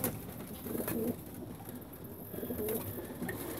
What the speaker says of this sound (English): racing pigeon.